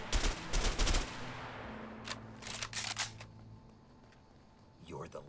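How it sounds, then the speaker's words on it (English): A shotgun fires in the co-op game A Way Out, with a few loud blasts in quick succession at the start followed by softer clicks and mechanical handling sounds. "This is what shotgun's like."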